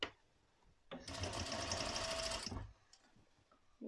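A sewing machine stitches over corset boning in one close, steady run of about a second and a half, with quiet handling before and after and no speech.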